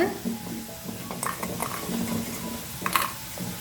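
Crispy fried potatoes are stirred and scooped out of a pan. A spoon scrapes and clinks against the metal in short, uneven bursts over a light sizzle, heard up close.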